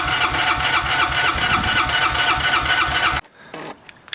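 Honda Rancher 350 quad engine, choke on, cranking and catching into a loud, steady, fast-pulsing run for about three seconds before cutting off abruptly, followed by faint clicks and a brief lower rumble.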